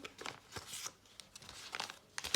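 A paper surprise packet is crinkled and torn open close by in a few quick, irregular rustling bursts, soft and alone with no talking.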